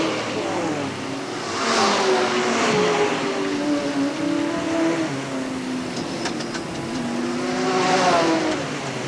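Sportsman race cars roar past on the Hales Corners Speedway oval, engines swelling loudly as each pack passes and fading in between, a continuous distant rumble of laps with no talk.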